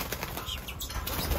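Wings flutter in quick, soft bursts as finches are released from an outdoor aviary, a brief close-up rustle of flapping with no voices.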